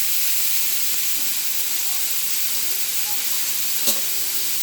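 Half a spoon of cumin seeds and urad dal fries in oil for a tempering, a steady close-up sizzle and hiss with one brief sharp crackle near the end.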